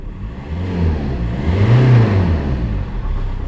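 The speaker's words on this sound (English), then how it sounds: "Seems to just generally idle better as well." A car engine, just treated with a fuel injector cleaner, idles steadily and then revs up briefly in the middle before settling back, a continuous mid-pitched hum heard alone and close by.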